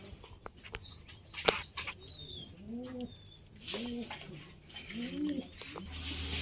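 Domestic pigeons kept in a wooden cage coo in repeated soft, rolling bursts at close range, joined by faint chirps and light rustling, with low talking in the background.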